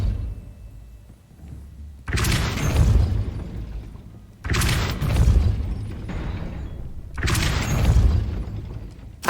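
A Depulso spell cast in Hogwarts Legacy: three loud, booming magical blasts about two seconds apart, each a broad thumping burst that lingers briefly before the next, with quiet stretches between.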